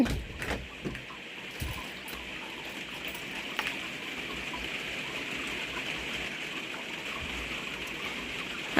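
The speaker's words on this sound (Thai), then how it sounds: "โอ้ย ฝนสาด" Heavy rain splashes down in a steady, dense hiss that carries on unbroken throughout, with a few louder knocks and drips near the start and no talking.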